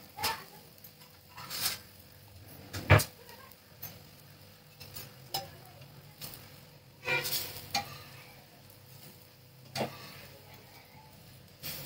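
A chila pancake frying with a little oil in a pan, a faint steady sizzle broken by occasional sharp spatula taps and clicks.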